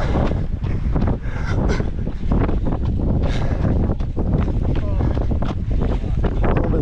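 Strong wind buffets the microphone on a hilltop in Anaheim Hills during a long-distance run, in a continuous loud roar with gusty rumbling throughout.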